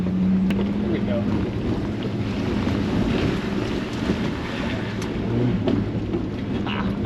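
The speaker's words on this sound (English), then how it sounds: "we're driving in across that little lake thing right now" An Isuzu Trooper wading slowly through a small lake during off-roading, with a steady low engine rumble, water washing around the vehicle and buffeting wind noise throughout.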